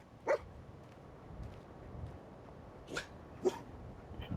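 Short dog barks or yips from the companion dog in the video game Fallout 4, three brief bursts spaced apart over a low steady game background.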